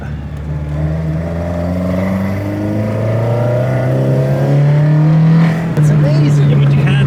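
A Toyota Trueno's engine roars loudly as it accelerates, its droning tone climbing steadily in pitch for several seconds, then dropping briefly and picking up again, heard close from inside the car.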